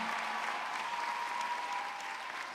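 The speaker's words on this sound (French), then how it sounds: "Est-ce qu'on peut faire du bruit? Est-ce qu'on peut acclamer Jésus pour sa vie?" A church congregation applauding and cheering for Jesus, a steady wash of clapping from a sizeable crowd in a reverberant hall, brief and even throughout.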